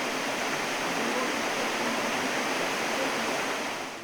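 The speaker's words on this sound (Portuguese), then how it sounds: "o som do barulho dessa água limpa e gelada é o suficiente para recarregar as energias até dos mais exaustos" Clear, cold water flowing through the forest at Carajás, a continuous, even rushing hiss that stays fairly loud and close before easing slightly at the end.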